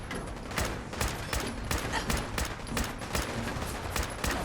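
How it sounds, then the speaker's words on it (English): Rifle fire from the video game Fallout 4 rattles in rapid, repeated bursts of shots over a dense game background, with steady sharp cracks throughout and no talk. "I just aim and shoot and keep shooting."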